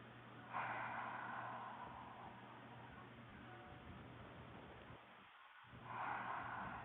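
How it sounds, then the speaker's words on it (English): Nasal inhale then a breathy open-mouth 'ha' exhale during a no-equipment mobility workout, with a sharp breath burst at the start and another near the end over a steady low hum, close and moderately loud. "breathe in through the nose and then like a ha, breathing out through the mouth"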